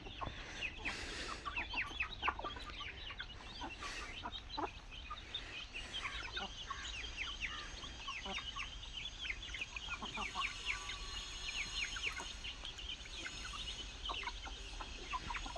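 Backyard chickens cluck and chatter steadily during feeding, many birds calling close by in overlapping bursts over a constant outdoor background, with no talking.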